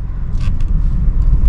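A car pulls away uphill as the half clutch is released on a narrow road, its engine giving a steady, close low rumble with no talk.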